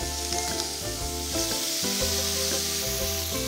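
Marinated steak sizzles loudly and steadily in a grill pan, a continuous close frying hiss with no one speaking.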